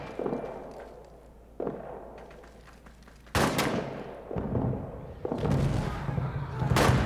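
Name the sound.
artillery fire in a WWI trench video game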